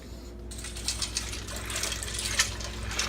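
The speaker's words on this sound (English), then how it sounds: "we're just going to stir it up." A spoon stirs one-pot chicken Alfredo pasta with cream and broth, giving wet clinks and scrapes against the pot over a low continuous hum, close and moderately loud.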